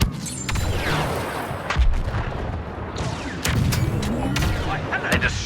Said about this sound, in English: They destroyed the tank.